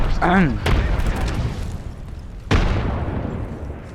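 A voice calls out briefly, then two heavy grenade booms go off a couple of seconds apart in Apex Legends, each trailing into a rumbling decay.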